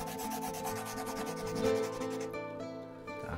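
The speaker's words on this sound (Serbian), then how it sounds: "Evo, malo da testiramo ovu šlajfaricu." A Parkside PMFS 200 multi sander works over a wooden beam with a continuous buzzing, rasping hum that wavers slightly and eases toward the end, with no talking.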